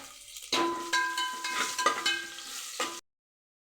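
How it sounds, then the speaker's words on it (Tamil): Cumin seeds and green chilies frying in hot oil, a bright crackling sizzle that bursts in around half a second with stirring clinks, then cuts off abruptly near the end. "ஜீரகம் நல்லா பொரிஞ்சு வரட்டும்"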